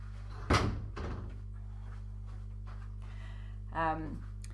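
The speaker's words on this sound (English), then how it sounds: "I'm just going to pop off and click the door shut because it's tapping" An indoor door is pulled and clicked shut with one sharp knock and a softer follow-up thud, close by over a steady low electrical hum, with a brief voice afterward.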